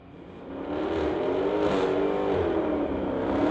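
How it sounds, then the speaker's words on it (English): Street-legal drag race cars accelerating hard down the strip on a cool night, a loud sustained engine roar that rises and builds as they pull away, with no voices. "And this is a drag race right here."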